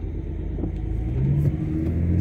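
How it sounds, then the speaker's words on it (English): A car approaching and rolling past on a nearby road, a steady low engine rumble that swells slightly toward the end. "Just got a car coming down here now."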